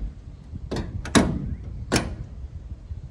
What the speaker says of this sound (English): Doors closed, closing time.